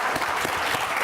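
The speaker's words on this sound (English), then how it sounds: "I'll ask you to thank all the contributors to this wonderful panel to join me in a round of applause" A brief burst of audience applause follows a panel discussion on economic sanctions, a short dense patter of clapping from the room.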